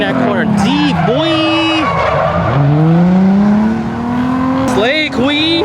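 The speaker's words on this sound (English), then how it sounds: "Yo, that's ambush drift." A car drifts through a corner, tires skidding and squealing while the engine revs rise and fall, loud and close, ending in another burst of throttle and tire noise.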